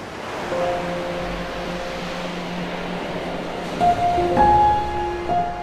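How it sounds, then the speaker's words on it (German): Storm waves at wind force 11 churn the Baltic Sea along the coast, a continuous roaring surf with rising surges, heard beneath sustained orchestral-like tones. "Wellen wühlen die Ostsee auf."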